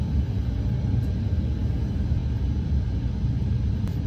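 Steady low rumbling airflow of cockpit ventilation running at normal pack flow inside an A320 flight simulator, a constant broadband hum with no talk.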